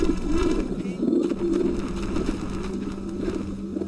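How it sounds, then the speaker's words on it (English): Birds cooing in the video game Fragile Dreams, a steady low murmur of pigeon-like coos repeating throughout at moderate loudness, with no talk over it. "first we're going to have to deal with these birds"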